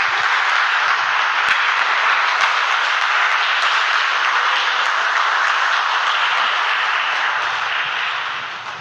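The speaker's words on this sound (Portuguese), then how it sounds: "Você pode aplaudir ao Senhor por esta palavra?" A church congregation applauds steadily as one broad, loud wash of clapping that holds for several seconds, then tapers slightly at the end.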